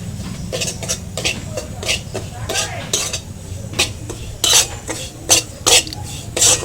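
A spoon stirs semolina in ghee in a metal pan, scraping and clinking against the sides in irregular bursts, close and fairly loud over a low background hum.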